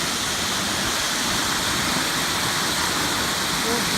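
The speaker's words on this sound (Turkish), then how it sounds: "Şelale bizi karşıla." A waterfall on a nature hike at Kıran plateau gives off a steady, loud, broadband rush of falling water that fills the whole clip without pause.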